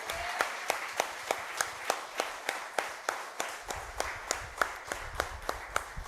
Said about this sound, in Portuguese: Você pode aplaudir ao nosso Senhor aí no seu lugar?